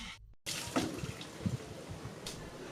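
Water rinsing a collected used tire being cleaned for furniture-making in N'Djamena, Chad: after a brief silent gap, running water splashes and gurgles steadily nearby, with no voices.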